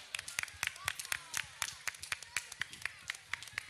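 Audience applause at an orchestra dance show in Oural, Lugo, Spain, steady fast clapping from a crowd, crisp and fairly distant, continuing without talk.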